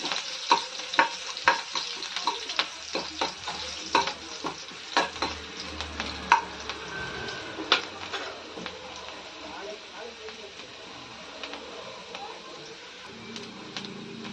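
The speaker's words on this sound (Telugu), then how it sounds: "గోల్డెన్ బ్రౌన్ కలర్ వచ్చిన తర్వాత కరివేపాకు వేసుకున్నాము" Curry leaves dropped into golden-brown onions frying in a pan for pithaka pappu charu, with a lively crackle and a run of sharp spatula clicks that thins out into a steady sizzle, close by.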